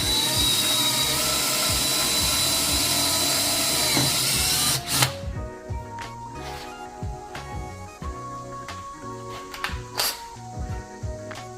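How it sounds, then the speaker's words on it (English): An electric drill bores into old car tire rubber while slicks are fitted to a 1968 Chevelle Pro Street, giving a loud steady whirring grind for several seconds before stopping, followed by scattered clicks, knocks and handling noises. "use a little bit bigger drill than 3/16"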